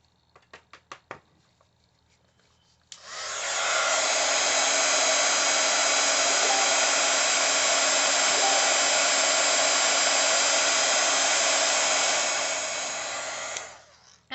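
A heat gun melts embossing powder on a stamped mushroom embellishment with a loud, steady blowing whir that holds for about ten seconds and then cuts off. A few light taps come just before it starts.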